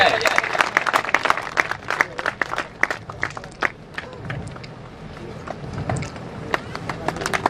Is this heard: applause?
yes